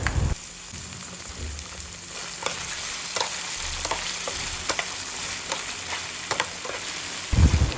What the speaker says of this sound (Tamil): இப்போ இதில் கொஞ்சமாக டொமேட்டோ சாஸ் சேர்த்து நல்லா மிக்ஸ் பண்ணி விட்டுக்கலாம்.